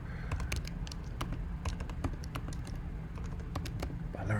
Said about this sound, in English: I learned how to type.